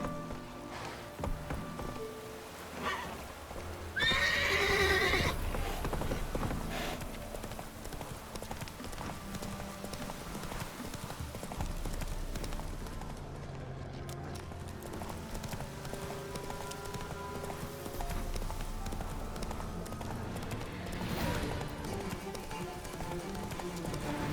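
Roach, a horse in The Witcher 3: Wild Hunt, gallops in a steady clip-clop of hooves under game music and ambience, with a brief louder burst early on.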